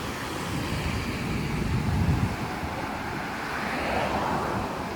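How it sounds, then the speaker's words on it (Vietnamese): Gentle sea waves at Bai Dua beach in Vung Tau, a steady soft surf wash mixed with wind noise on the microphone, with faint swells of louder surf. "Biển hôm nay rất hiền hòa, sóng dịu êm, nước biển trong xanh."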